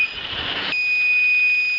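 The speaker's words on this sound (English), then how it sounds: "Now you are getting a buzzer indication through your compass." A steady, high-pitched electronic buzzer tone sounds continuously, with some rustling noise in the first part before it rings on alone.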